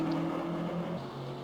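BMW M6 GT3 race car engine in the rFactor 2 racing sim, a steady droning tone that shifts down partway through, continuous and moderately loud with no talk.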